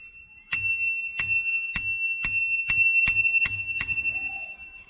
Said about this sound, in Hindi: और घंटी भाई, घंटी बताना कैसी है दोस्त।